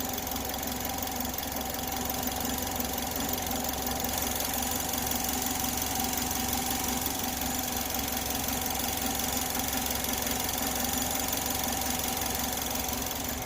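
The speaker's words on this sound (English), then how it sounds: "and I'm just going to give the engine a little bit of a rev." A Chevy HHR engine idles during coolant bleeding after a thermostat replacement, with a steady, close mechanical hum and a faint rhythmic ticking, continuous and even throughout with no talk.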